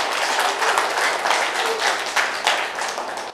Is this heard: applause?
yes